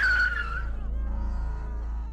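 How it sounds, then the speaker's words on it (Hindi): A car races in fast and skids to a halt with a loud tyre screech, then the engine settles into a low idle rumble. "विशाल की गाड़ी तेजी से अशोक वृक्ष के पास आकर रुकी"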